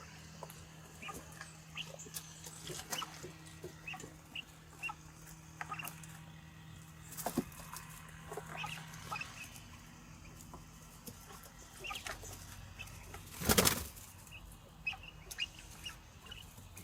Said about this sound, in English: And now let's put our bucket of quail back.